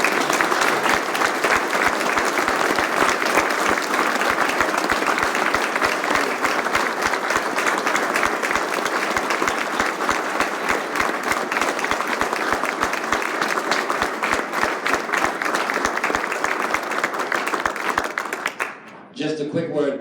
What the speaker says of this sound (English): we'd like everybody to get up and give Bill one hell of a round of applause